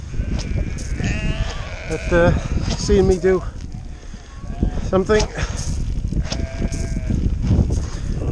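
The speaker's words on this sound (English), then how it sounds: "Feeding my sheep at the moment" Sheep bleat repeatedly at a farm feeding during lambing season, several overlapping calls near and mid-distance, mixed with rustling and movement while someone talks over them.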